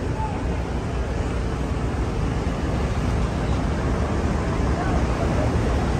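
Crowded passenger launches pressing against each other on a river in Bangladesh, heard as a loud continuous rush of water and engine rumble with wind noise, steady and unbroken throughout.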